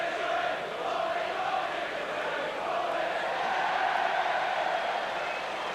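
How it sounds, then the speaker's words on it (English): A Wigan rugby league crowd at a club match against Castleford, a steady broad roar of cheering and chatter from a large stadium audience, continuous and fairly distant throughout. "I've never seen this or heard this Wigan crowd in such a hilarious mood"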